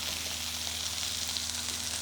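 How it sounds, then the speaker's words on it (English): Ling fish sizzling and frying in butter and oil in a pan, a steady close crackling hiss that runs continuously with a low hum underneath. "just in the pan here when you're cooking the fish, you can sort of see it coming cooking up that way"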